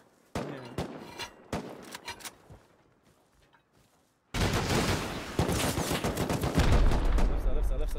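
Gunfire in the survival game Rust: a few sharp isolated shots early on, then after a pause a loud, dense burst of sustained automatic fire with heavy low rumble filling the rest.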